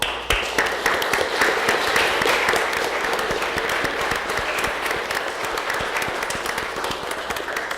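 An audience at a city commission budget hearing applauds the budget staff with sustained, dense clapping at a steady level from start to finish.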